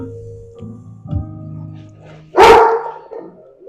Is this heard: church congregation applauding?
no